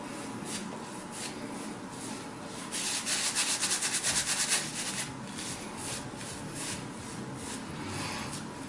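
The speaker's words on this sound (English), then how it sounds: "you can hear most definitely the whiskers being removed" A razor loaded with a fresh Voskhod blade scraping whiskers off a lathered face, close rhythmic raspy strokes repeating steadily, with a denser burst of short scrapes midway and no talking.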